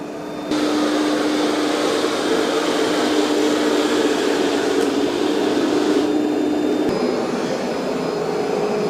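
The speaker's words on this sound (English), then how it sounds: "I did turn the vacuum up to the loudest or the most suction that it has right now" A robot vacuum runs loudly at full suction, a steady whirring roar with a high motor whine that holds constant throughout.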